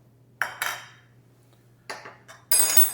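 Minced garlic being mixed in a bowl with a utensil, giving three separate bursts of close metallic clinking and scraping with quiet pauses between them.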